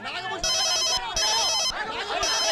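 A telephone rings in a Telugu film scene, with loud, close bursts of bell-like trilling separated by short pauses, repeating three times.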